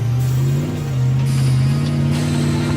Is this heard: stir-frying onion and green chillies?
no